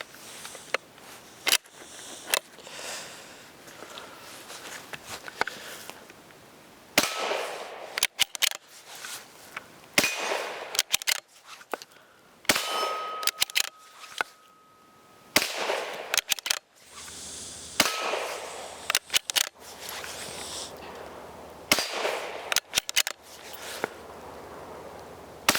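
A Savage 93 Gen 1 .22 WMR rifle with a Vortex scope fired at a target 50 yards away: sharp, loud cracks spaced irregularly over the span, mixed with handling clicks and rustle between shots.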